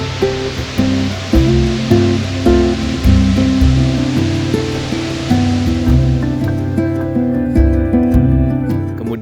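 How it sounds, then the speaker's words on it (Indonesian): A waterfall roars in a steady wash of falling water, heard out in a valley setting in Sukabumi, with a pulsing tonal layer of music over it that fades toward the end. "Air terjun menjadi titik pemberhentian berikutnya."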